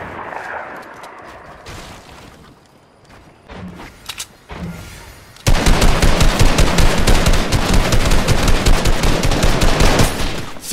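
Loud, dense machine gun fire from a first-person shooter game erupts halfway through and rattles on without pause, after a quieter stretch of scattered game noise and a few isolated thumps.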